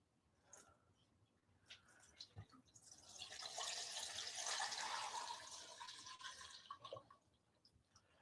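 Water poured into a pot holding steaks for sous vide cooking, a close, rushing fill that builds to a steady splash in the middle and then eases off, with small clanks around it.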